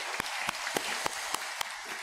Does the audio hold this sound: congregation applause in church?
yes